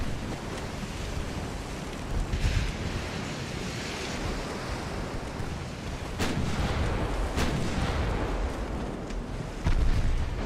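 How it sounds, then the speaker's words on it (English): Ten-inch naval guns firing during a battle in Ultimate Admiral: Dreadnoughts, heard as a few broad booms and a sharp report near the six-second mark, set against a steady roar of surf, wind and ocean ambience. "I got to get some hits with these 10-inch guns"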